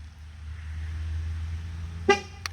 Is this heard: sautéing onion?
no